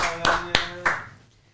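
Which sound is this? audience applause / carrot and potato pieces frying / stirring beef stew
audience applause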